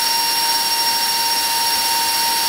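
Ducted fans of an RC SR-71 plane running on fresh batteries, a loud, steady high-pitched jet-like whine that holds constant from start to finish, with no voices.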